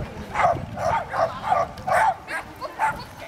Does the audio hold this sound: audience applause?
no